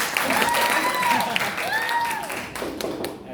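An audience at a speech contest claps steadily, with a few whistles rising over the applause before it thins out at the end.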